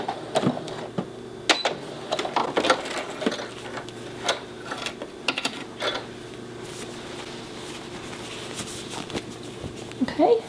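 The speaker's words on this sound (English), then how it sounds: "go add a few basting stitches" A sewing machine runs basting stitches across a shirred top or dress bodice, giving soft mechanical clicks and ticks in short irregular bursts against a quiet background.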